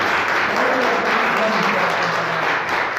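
A church congregation applauds a visiting guest during a Sunday service. The clapping is loud and continuous, with crowd murmur and some voices mixed in underneath.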